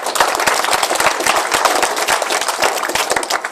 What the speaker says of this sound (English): So let's make a big round of applause for excellence.